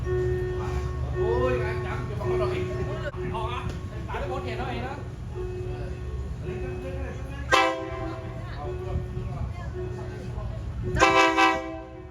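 A train horn sounds in short loud blasts near the end as a train approaches in Thailand, with people talking over a low rumbling background.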